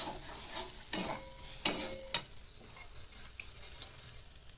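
Cumin and turmeric powder fry briefly in hot oil, a soft sizzle broken by a few quick stirring scrapes and a sharp clink of a spoon against the pan.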